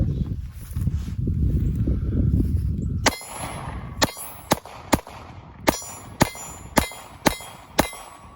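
A Glock 43X pistol firing Blazer ammunition outdoors: about nine sharp, loud shots in a steady series, following a stretch of low rumbling background noise.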